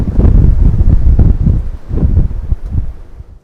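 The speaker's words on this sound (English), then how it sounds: "before this wind blows me over here" Strong outdoor wind buffets the microphone in loud, rumbling gusts that swell and fade over a few seconds before easing off, with no voices.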